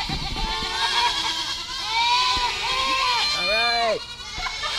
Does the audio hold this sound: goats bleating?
yes